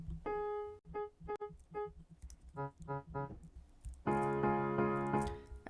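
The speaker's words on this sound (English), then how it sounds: "So these chords, they actually run a dotted 8th note pattern," Piano chords play in a choppy dotted-eighth rhythm, short stabs giving way to a fuller sustained chord near the end, with no one talking.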